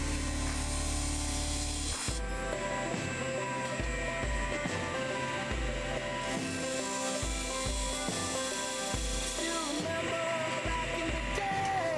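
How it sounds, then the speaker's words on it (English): A micro detailing tool scrapes against spinning wood on a lathe while detailing a Christmas cracker box sanded to 240 grit, a steady whirring hum with repeated light cutting chatter. "we're just going to get the micro detailing tool and we're just going to add a couple of, well, details"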